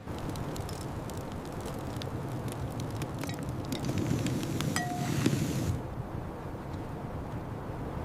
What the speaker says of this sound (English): This wind is relentless, but the fire is worth it.